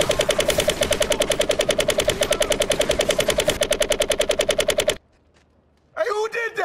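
Rapid automatic gunfire from a VR shooting video game, a long steady stream of evenly spaced shots, loud and close, cutting off abruptly into near silence before a short burst of voices at the end.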